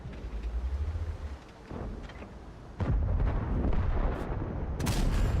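A tank cannon shot strikes an enemy's tracks in World of Tanks, sounding as a sharp booming blast with heavy low rumble, followed by continuous loud battle noise and further impacts, with no one talking.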